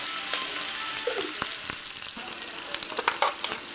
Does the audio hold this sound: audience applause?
no